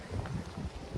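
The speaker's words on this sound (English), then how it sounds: "I apologize for the wind" Steady wind gusts buffet the microphone outdoors at a car lot beside a blue 2010 Land Rover LR4, producing a continuous low rumble and rustle with no voices.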